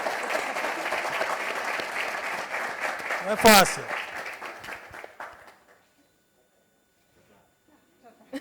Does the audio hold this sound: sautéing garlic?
no